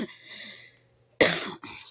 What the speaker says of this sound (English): I don't know why I'm coughing so bad this morning